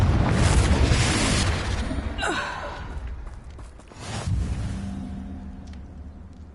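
Confringo spell explosion in the video game Hogwarts Legacy, a heavy booming blast that swells and fades, followed by a second rumbling burst and a shimmering magical swoosh.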